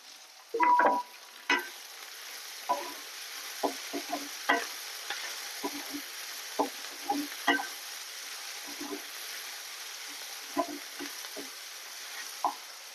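Mint leaves and coriander frying in a pan for vegetable biryani, with a quiet steady sizzle broken by a series of short scraping stirs and clinks, no talking.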